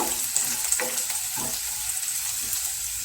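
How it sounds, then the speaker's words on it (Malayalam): Ginger and garlic fry in hot oil with a dense, even sizzle, with a few soft stirring scrapes, close and constant throughout without speech. "ഇത് നമുക്ക് എണ്ണയിലേക്ക് ചേർത്ത് നല്ലതുപോലെ ഒന്ന് ഫ്രൈ ചെയ്തെടുക്കാം"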